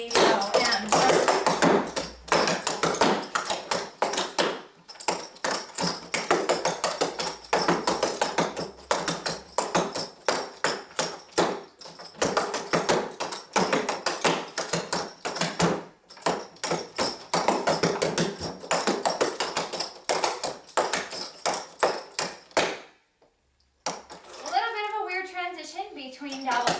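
Clogging dance steps tap and stomp on a floor in a fast, busy rhythm of sharp close clicks and thuds that runs almost without a break, then stops briefly before talking near the end.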